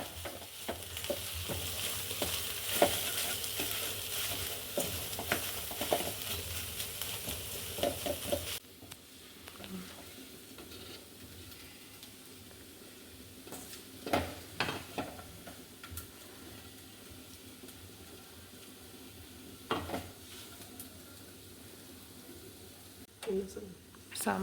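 Tuna fish frying in a pan and being stirred now and then while the lid comes off, with a steady hiss of oil, occasional utensil scrapes and clicks, and faint talk in the background.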